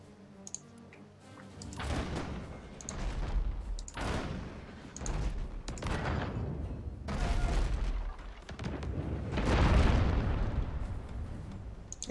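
Cannons firing aboard a ship in the video game Abandon Ship, a run of heavy booming blasts and rumbling impacts that repeat every second or two for several seconds, loud and continuous with no talking.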